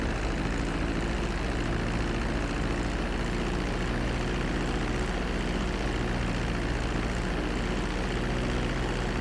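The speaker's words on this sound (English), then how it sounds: "Start reducing the plane's altitude gradually so you're just above the runway as you approach." Airplane engine droning steadily as the plane comes in to land on a runway in the video game GTA 5, a loud continuous roar with a low hum and no talk over it.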